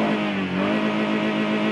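A Toyota Camry 2.4 engine with automatic transmission revs hard and holds at high rpm near the redline, a loud, steady, close-up droning roar with no talking.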